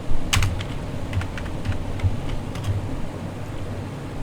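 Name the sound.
typing a job description on a keyboard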